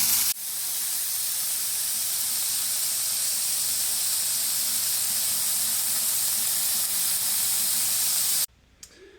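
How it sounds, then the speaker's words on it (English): Grass-fed beef burger patties, some 85% lean, fry together in a pan, giving a loud, even, continuous sizzling hiss that starts abruptly and cuts off just before the end. "I'm also cooking my dog's burgers at the same time"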